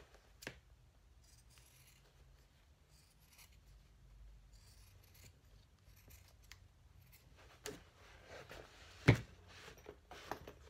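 Scissors trim cotton seam allowances on a lined cork dopp kit, making quiet, sparse snips and faint rustles, with a sharper clack near the end, all at low volume.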